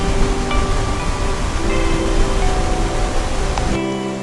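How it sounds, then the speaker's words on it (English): Tamul Waterfall in Tamasopo, San Luis Potosí, Mexico, pours with a loud, steady broadband rush of falling water that fills the whole clip without pause, then drops slightly in the final half second, with no voices. "Tamul Waterfall is located in Tamasopo,"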